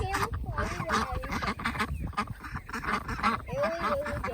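Ancona ducks on a farm pond quack in a steady series of nasal calls, near and fairly loud, with other barnyard fowl noise mixed underneath.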